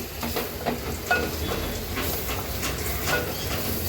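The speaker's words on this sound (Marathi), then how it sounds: "हळद आणि मसाला देखील आपण तेलावरच मिरचीसोबत परतून घ्यायचा आहे" Turmeric and masala sautéing in hot oil with chillies, giving a steady close hiss and sizzle with faint crackles, fairly loud and continuous.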